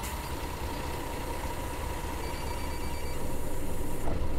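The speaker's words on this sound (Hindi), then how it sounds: "फोन किसका आया?" A phone rings inside a Fernbus Coach Simulator coach, a steady repeating tone over the constant low rumble of the idling bus engine, with no talking.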